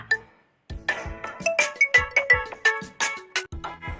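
A mobile phone ringtone plays a bright, chiming melody of short bell-like notes in a repeating pattern, clear and alone in a Thai children's reading lesson.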